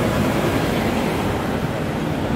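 A Hong Kong tram running on the street, heard as a loud, steady rumble and roar without a break.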